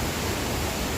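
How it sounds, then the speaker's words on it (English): Strong hurricane wind gust makes a loud, dense, steady roar, filling the moment without talk. "That was one hell of a gust."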